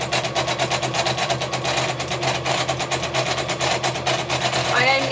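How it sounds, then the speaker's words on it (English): A sewing machine runs nonstop at a fast, even stitching rhythm, loud and close, with a mechanical hum beneath. "my sewing machine seems to be exceptionally noisy"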